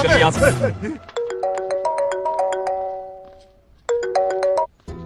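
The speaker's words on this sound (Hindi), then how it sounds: "आपको किसी का फोन आ रहा है" A melodic phone ringtone plays a rising chime pattern, then pauses and starts again; a voice talks briefly before it begins.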